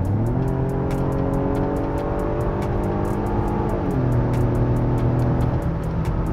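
A Genesis GV80 SUV accelerates on the road, its engine note climbing steadily in a continuous rising drone heard from inside the cabin, with tire and road rumble underneath and no talking.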